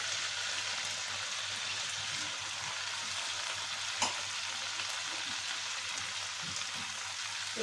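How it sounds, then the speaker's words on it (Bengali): A spice paste of onion, garlic, cinnamon, cumin and coriander frying in a pan for doi chicken, a soft continuous sizzle and crackle, close but fairly quiet, with one faint knock partway through and no talking. "এটা দিয়ে এবার এটাকে ভালো করে একটু কষাবো।"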